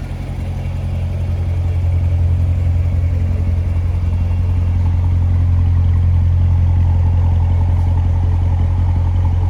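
A 2016 Chevrolet Corvette Stingray coupe idles with a deep, loud, steady engine rumble heard close up, its low throb holding evenly for several seconds with no voices.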